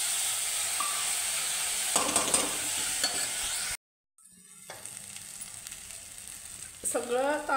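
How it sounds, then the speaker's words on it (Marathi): Washed rice is stirred and sautéed in a hot pan, a steady sizzle with scraping stirs, broken by a moment of silence, then returning softer with spoon clinks and rattles. "सगळं तांदूळ वगैरे घालून व्यवस्थित परतवून घेतल्यानंतर"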